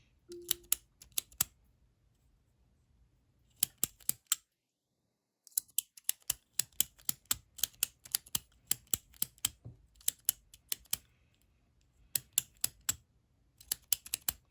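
Parker Jotter ballpoint pen, an antimicrobial version, clicked repeatedly up close, giving sharp crisp clicks in quick bursts with short silent pauses between them.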